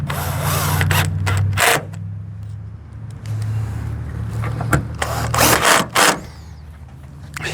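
A cordless power drill on a low torque setting drives two small screws into a 2017 Dodge Ram taillight, giving several short, close whirring bursts with a steady hum underneath and brief pauses between runs.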